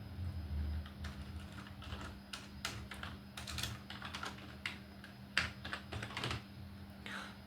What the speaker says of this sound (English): let's just type in some subheading or something